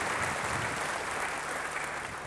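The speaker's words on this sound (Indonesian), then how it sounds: "Beri tepuk tangan yang baik bagi dia." Congregation at a church service claps together in a brief, continuous burst of applause, fairly loud and unbroken, with no talking on top.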